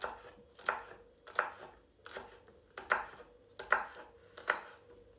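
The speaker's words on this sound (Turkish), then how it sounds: "200 gram kadar biberimiz var biberleri böyle küçücük küçücük doğruyoruz." A knife chops peppers finely on a cutting board at home, in a steady rhythm of about eight crisp strikes, close and clear with nothing else heard.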